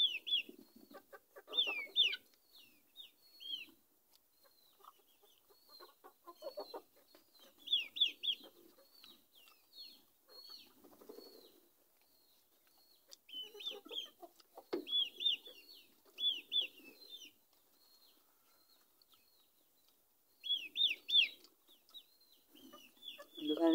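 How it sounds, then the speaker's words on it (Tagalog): Domestic chickens cluck and chirp repeatedly in bursts throughout, fairly close, with low voices talking intermittently underneath. "Pasensya na mo sa among mga manok guys kay samok di sila"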